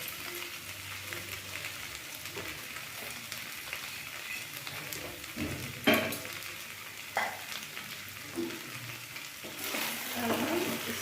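Drumstick stalks and brinjal fry in a pan for an Indian moringa curry, a continuous close sizzle with spatula stirs and occasional clinks against the pan, and no talking.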